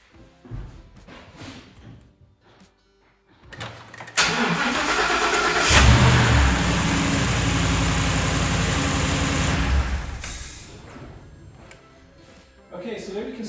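A Ford Raptor's 6.2 liter V8 cranks and fires on a small jump starter, catching loudly and settling into a steady, close, throaty idle before cutting off, with quieter handling sounds around it.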